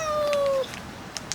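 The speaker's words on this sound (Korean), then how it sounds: "제주도 바다에는 고양이가 산다." A cat by the sea on Jeju Island gives one clear, close meow that slides downward, then fades into quiet outdoor background with a few soft clicks.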